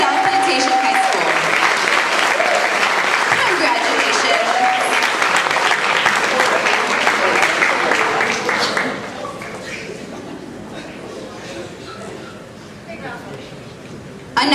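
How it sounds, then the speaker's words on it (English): Audience at a high school awards ceremony applauding loudly and continuously, the clapping thinning and fading to a quieter patter in the second half. "Another really big round of applause."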